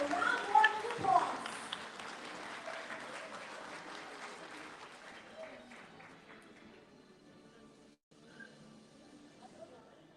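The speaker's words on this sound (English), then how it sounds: "Let's give them a round of applause." Audience applause at a school Grade 10 moving-up ceremony honouring awardees, loud at first and then tapering into a softer, sustained patter of clapping, with a brief dip near the end and a voice talking beneath.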